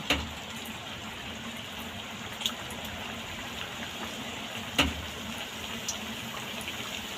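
Pieces of goja dough bubble gently in medium-hot oil, a soft, steady fizzing heard faint and close, with a few light clinks along the way.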